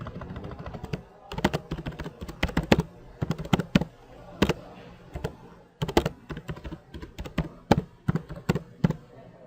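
Rapid typing on a computer keyboard, up close, with bursts of clicking keystrokes and short pauses in between, entering a new server password. No one speaks.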